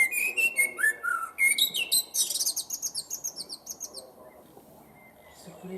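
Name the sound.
bird calling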